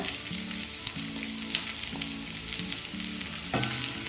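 Sliced onions sautéing in a pan for roadside-style kara chutney, a steady sizzle and crackle of frying with occasional stirring, close and alone with no talk.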